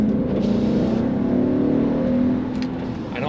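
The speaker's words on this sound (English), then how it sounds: "And I love the sound of a V8." A deep V8 engine of a BMW X5 E70 rumbles steadily and loudly up close, swelling slightly before easing off toward the end, with no voices.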